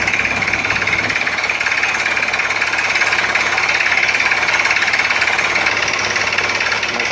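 A hammer drill boring a water well pounds away with rapid, steady percussive knocking over a loud engine drone, continuous and close throughout, with no talking.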